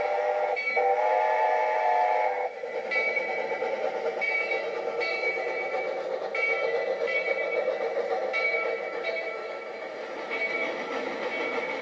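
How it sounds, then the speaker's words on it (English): A steam locomotive on the Roaring Camp railroad in California starts a steep, curving climb toward the Bear Mountain summit, its whistle shrieking at the start over a steady rumble and rhythmic chuffing. "the engineer pulls out the throttle of the steam locomotive and begins the steep, curving climb to the summit of Bear Mountain."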